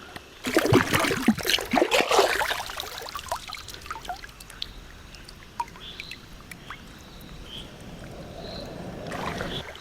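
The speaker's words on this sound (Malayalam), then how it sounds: "ഞാൻ ഈ ചിക്കനൊന്ന് കഴുകട്ടെ കേട്ടോ." Raw chicken is rinsed in river water at a riverside night camp. Splashy bursts come early, then calmer trickling, with faint insect chirps in the dark surroundings.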